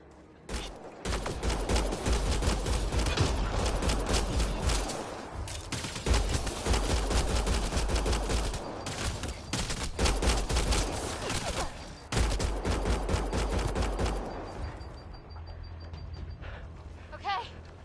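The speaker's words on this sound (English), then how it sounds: "Nyax, shoot it!" Sustained automatic gunfire in Mass Effect Andromeda, dense rapid bursts of shots continuing for many seconds with brief gaps, fading into quieter sounds near the end.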